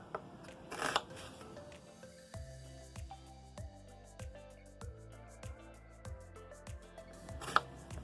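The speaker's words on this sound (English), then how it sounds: "So I do a little coarse chop on the onion." A knife coarsely chops an onion for potato-leek soup, landing in a steady run of close, crisp thunks on a cutting board with a couple of rustling bursts, no talk.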